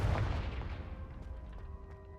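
A Confringo fire-blast spell cast in the Hogwarts Legacy video game, a sharp, booming burst that fades into a brief rumbling decay with faint ringing tones.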